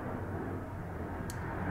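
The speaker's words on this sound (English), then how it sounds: "freaking loud ass airplane" A loud airplane passes overhead as a broad, steady roar that fills the whole moment, with no other sound standing out above it.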